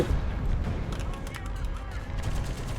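Tank gunfire from an AMX-30 in the War Thunder video game, rumbling low booms and rapid cracks layered into a dense, continuous battle din that stays loud throughout.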